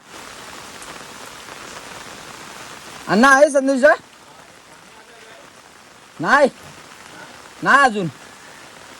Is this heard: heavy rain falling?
yes